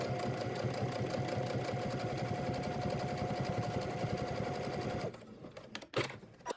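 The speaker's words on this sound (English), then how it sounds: "now we're just going to go ahead and edge stitch" A sewing machine runs steadily at a fast even pace, edge stitching a pressed fabric loop piece, then stops, followed by a few faint handling clicks and bumps.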